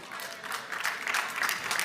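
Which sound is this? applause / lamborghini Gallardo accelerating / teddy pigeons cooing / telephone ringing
applause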